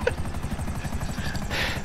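A helicopter in GTA Online gives a loud, steady rotor thrum with rapid chopping pulses throughout, plus a brief brighter whoosh near the end.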